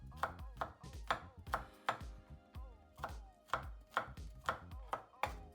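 A knife minces fresh garlic on a cutting board: about a dozen crisp, close chops land in a quick, fairly even rhythm with brief pauses between them.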